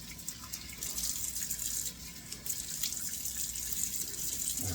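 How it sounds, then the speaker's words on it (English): Cold water runs from a sink tap and splashes steadily with a hissy, close-up rush that holds for the whole stretch. "so let me do 2 splashes of cold water"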